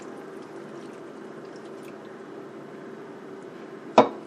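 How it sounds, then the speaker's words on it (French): Warm mushroom juice poured over finely chopped okra while making smoked slimy okra sauce: a steady, soft liquid pour runs throughout, ending in a brief sharp clink or splash. "voici mon jus de champignons tiède que je verse dessus"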